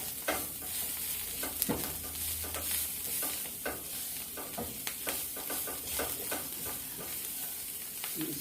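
Vegan sausage ingredients being stirred together in a bowl, with steady scraping and soft clicking strokes repeating throughout, fairly close and moderately loud, no voices.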